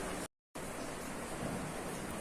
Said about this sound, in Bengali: আপনারা দেখেন বাইরে অনেক বৃষ্টি হচ্ছে